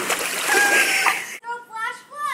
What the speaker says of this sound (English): Flash flood!